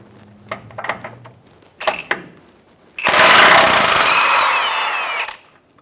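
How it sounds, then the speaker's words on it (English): A ratchet with an 18mm socket removes a nut from a bolt on a 2014-2018 Chevrolet Silverado 1500 differential mounting bracket: a few sharp clicks and knocks, then a loud, close whirring burst for about two seconds. "Coming down below, we're going to use an 18mm socket and remove the nut for the bolt."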